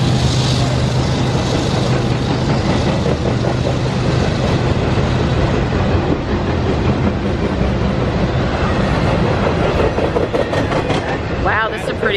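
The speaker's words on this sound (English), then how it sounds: "this is a real train" A real train rolls past close by on a road trip, a loud sustained rumble with rhythmic clickety-clack of wheels over rail joints, filling the whole stretch and swelling near the end.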